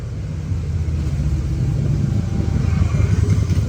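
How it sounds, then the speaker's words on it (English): A motorcycle rumbles past on a road near a parked car, a loud, low engine drone that holds steady and swells slightly as it approaches, with no talk over it. "Sorry, there's a motorcycle coming through."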